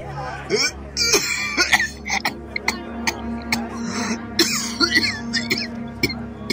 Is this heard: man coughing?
yes